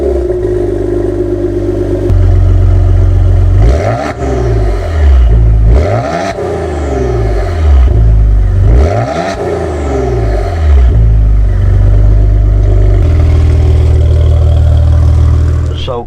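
A 2020 Maserati Ghibli SQ4 on the road, its engine droning low and then revving up through repeated rising and falling sweeps as it accelerates through the gears, loud and close, settling back to a steady cruise near the end.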